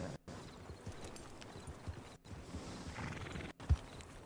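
Hooves of a horse being ridden clop softly on the ground in a steady rhythm, faint and somewhat distant, with brief dropouts and a single low thump near the end.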